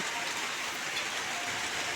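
Rain falling steadily during a village football match, an even close hiss of drops on surfaces with no distinct voices.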